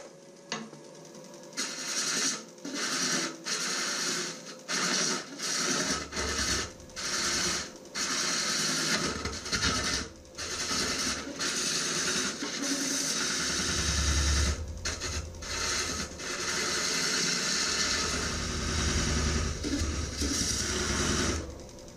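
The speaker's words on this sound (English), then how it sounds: "I'll then use my skew to cut a dovetail onto the tenon." A maple log spins on a wood lathe as a skew chisel cuts a dovetail onto its tenon, giving a close, steady mechanical whir broken by repeated scraping cuts and short pauses, with no speech.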